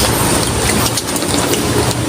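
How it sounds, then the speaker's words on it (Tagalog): Heavy rain pours down in a loud, dense, unbroken roar, close and steady, with no voices over it. "Alangan di ka tatakbo, malakas yung ulan yun."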